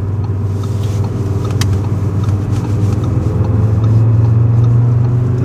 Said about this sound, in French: on a la ligne d'origine avec les clapets qui s'ouvrent en mode sport, donc le bruit il est plus agressif